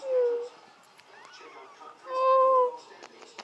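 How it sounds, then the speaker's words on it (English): A small kitten gives two clear, tonal meows, one short at the start and a longer one a couple of seconds later, close to the microphone, with faint rustling and murmured sounds in between. "It's such a cute little kitty."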